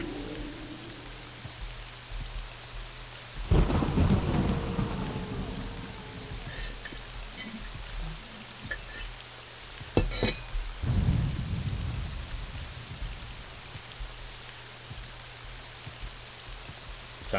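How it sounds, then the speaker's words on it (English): Steady rainfall hisses through a Morrowind game scene while two deep thunder rumbles roll in, one early and one later, each swelling loudly before fading back into the rain. "I love the sound of rain."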